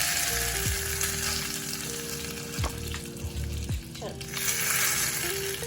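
Red chillies, mustard seeds and curry leaves hit hot oil in a tempering for coconut chutney, giving a loud, dense sizzle and crackle throughout, with a steady tone sounding beneath it.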